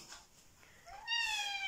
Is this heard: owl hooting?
no